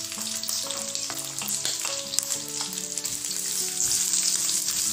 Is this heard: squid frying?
yes